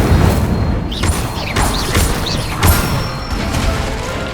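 Spells being cast in a rapid chain in the video game Hogwarts Legacy, a dense, loud rumble of repeated magical bursts and whooshes about every half second, continuous and booming with no gaps.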